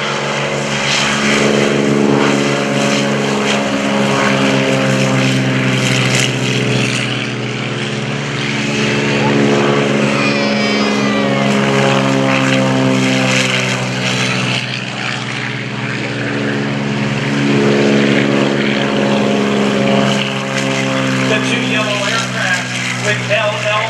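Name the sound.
Beechcraft T-34 Mentor propeller airplane flying at airshow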